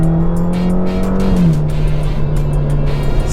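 A Ferrari Roma grand tourer cruising along a road, its engine holding a steady smooth drone that dips slightly in pitch partway through, with tire and road noise underneath and no talking.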